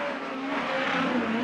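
A USAC midget race car on a dirt oval during a qualifying lap at Merced. Its engine holds a steady, sustained drone at moderate distance, and no voices are heard.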